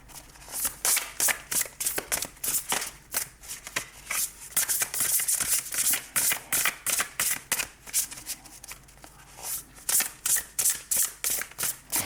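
Tarot cards from the Wisdom of the Angels deck are shuffled by hand in a rapid, steady run of crisp riffling bursts, close and clear with no talking.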